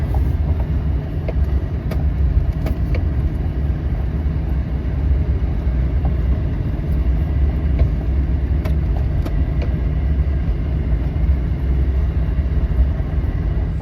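A repaired General Motors vehicle moving in drive gear gives a loud, steady low engine rumble with scattered metallic clanks and rattles throughout.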